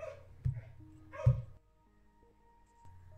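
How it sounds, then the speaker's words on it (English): A dog barks indoors, giving two sharp, loud barks about a second apart, after which the room goes nearly quiet apart from faint background hum. "just had to shut the dog up"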